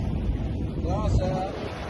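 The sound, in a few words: sailboat motoring with the sail up in rough sea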